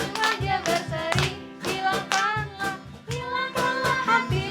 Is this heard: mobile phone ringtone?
no